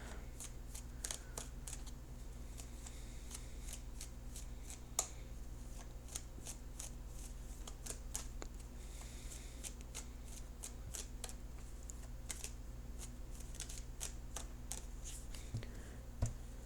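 Tarot cards are shuffled by hand up close, a quiet run of crisp, rapid flicks and slaps repeating irregularly over a soft background hum.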